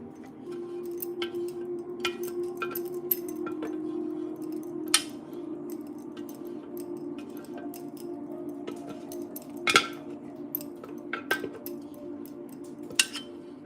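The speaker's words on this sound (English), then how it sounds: "I'm gonna try and scrape the rest out of here" Cooked food being scraped out of a pot at a home dinner, heard as scattered metallic clinks and scrapes of a utensil against the pot over a steady low hum, with a few sharper knocks standing out.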